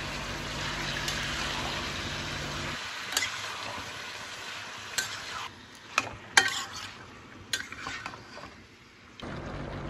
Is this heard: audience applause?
no